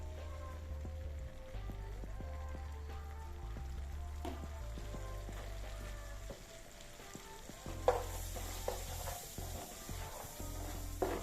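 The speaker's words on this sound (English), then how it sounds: "And now we add our butter. Now we add our flour." Butter and flour being stirred in a cooking pan while making homemade lasagna, a steady sizzle with scraping stir sounds and a few louder clanks near the end.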